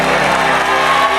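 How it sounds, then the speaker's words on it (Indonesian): A television game-show studio audience applauding a team, a dense wash of clapping with cheers and whoops, loud and close, lasting only a brief moment. "Sapu bersih tepuk tangan dong untuk party girl."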